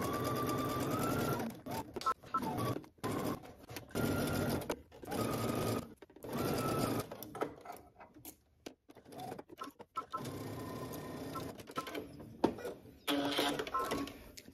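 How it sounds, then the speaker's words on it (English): A domestic sewing machine stitches collar pieces along the sides with a 5/8 inch seam allowance, running in repeated bursts of motor whir separated by short pauses, close and steady throughout. "we're gonna stitch up the sides, around, and then down the other side using 5/8 of an inch seam allowance"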